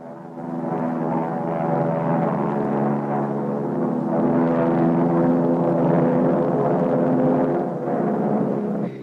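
A Cessna T-41 Mescalero trainer airplane drones in flight, its propeller engine a steady, loud, buzzing hum heard from inside the cockpit, unbroken for several seconds with no talk.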